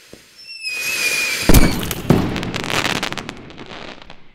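Fireworks and firecrackers go off outdoors: whistling rockets rise and then burst into loud bangs and a long run of crackling pops.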